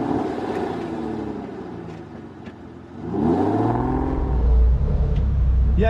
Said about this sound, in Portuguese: Você acompanha a gente dando um rolezinho de Thunderbird aqui também